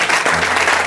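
Church congregation at a Sunday service applauding to acclaim Jesus, a dense burst of clapping from many hands, loud and close, under a second long.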